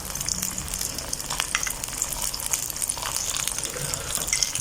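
Aloo paratha stuffed with cheese frying in ghee on a pan over very low heat, a steady close sizzle and crackle running throughout with no talk.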